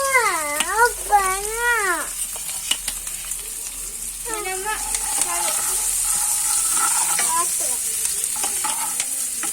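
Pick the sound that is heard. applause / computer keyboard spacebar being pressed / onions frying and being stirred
onions frying and being stirred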